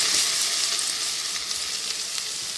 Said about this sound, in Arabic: هنحمر كمية البصل المحترمة دي كويس خالص، وهنغمق لونه خالص خالص